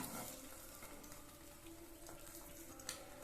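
Egg-soaked bread slices for French toast fry over a medium flame in a pan, a quiet, steady sizzle throughout with a small clink near the end.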